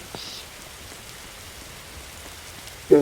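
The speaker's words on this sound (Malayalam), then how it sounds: "ഗെയിമില് മഴ പെയ്യ, ഇവിടെയും മഴ പെയ്യ." Steady, faint rain patter hisses softly throughout, a continuous wash with no breaks, and a brief voice cuts in at the very end.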